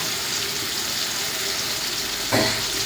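Ground masala tipped into hot oil for a black-eyed pea and dry fish curry, a steady loud sizzle throughout with a brief surge of fresh crackle near the end.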